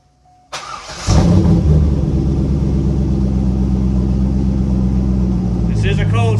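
A C5 Corvette fitted with a DNA Motoring exhaust cold-starts with a sharp crank, then settles into a loud, close, steady deep burbling idle with a slight rev toward the end.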